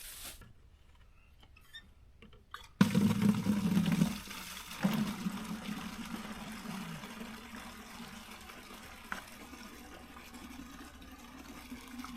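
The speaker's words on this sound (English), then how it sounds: "you need to send your water downhill to fill up your tube to get all your air bubbles out of it" Water running downhill through a clear tube to fill a water level and push out air bubbles, with a steady liquid rush starting abruptly after a quiet lead-in and settling into a continuous trickle.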